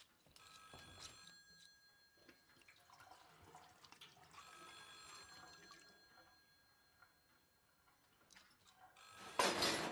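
A telephone rings indoors in a 2015 Swedish drama film by Kay Pollak, sounding in a few separate bursts of bright, sustained bell tones with quiet stretches between them and no talking.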